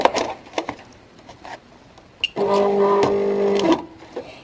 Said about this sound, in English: Load it into my Cricut.